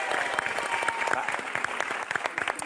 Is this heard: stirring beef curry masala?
no